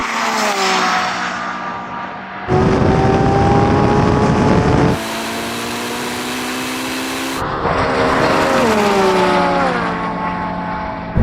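Roaring engines of a Lamborghini Revuelto, Ferrari SF90 and Porsche 918 in a drag race, accelerating hard, sustained loud revving that shifts pitch abruptly through gear changes, close and continuous without speech.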